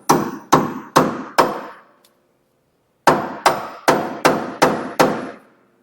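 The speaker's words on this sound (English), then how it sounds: "I'm going to whack on it with this hammer" A hammer whacks a wedge chisel into a gap in the front-end steering of a Chevy/GMC 2500 Duramax truck: four sharp, ringing metal blows in steady rhythm, a pause of about a second, then six more, loud and close with no talk.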